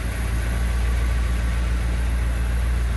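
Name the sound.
1955 Cadillac Coupe DeVille engine idling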